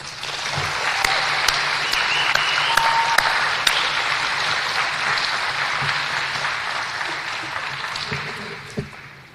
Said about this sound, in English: Please join me in one more rousing round of applause for our good friend, Sam Nunn.